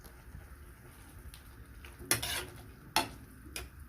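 Capsicum gravy with chilli powder is stirred in a pan, a faint quiet scene broken by a few sharp spoon scrapes and clinks against the metal and a soft simmering hiss.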